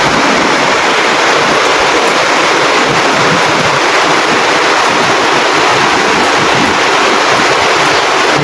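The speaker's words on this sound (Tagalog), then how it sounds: "Lakas ng ulan guys eh." Heavy rain pours down steadily in a dense, loud, broadband rush that stays constant and close throughout, with no voices over it.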